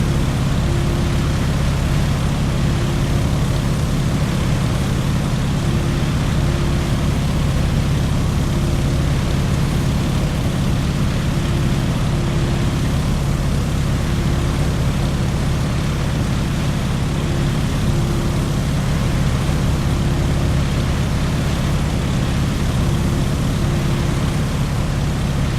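PT-17 Stearman biplane propeller engine in Microsoft Flight, a steady loud droning hum that holds unbroken throughout, heard alone without talk.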